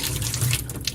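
Cold water runs from a sink tap in a steady, fairly loud broadband hiss for the whole second, close by with no talking.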